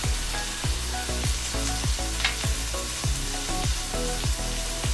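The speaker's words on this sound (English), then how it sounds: "I'm just going to let this cook out for a couple of minutes to cook the rawness out" Chopped garlic and red chilli fry in a cast iron pan with a steady, close sizzle. Repeated light utensil knocks come in an uneven rhythm as the mixture is stirred.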